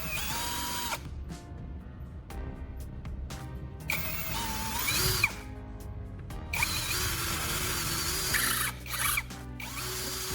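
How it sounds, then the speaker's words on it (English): A power drill bores straight through a wooden handle held in a vise, its motor whining steadily near and loud for several seconds with brief pauses and changes in pitch as the bit cuts. "we'll drill a hole straight through it, size exactly to match the threaded body of the valve stem"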